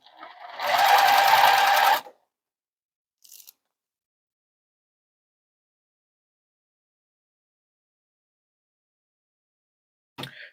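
A sewing machine stitches quilt fabric in one loud burst of about a second and a half, followed by near silence with a faint brief clatter and a final short sound at the end.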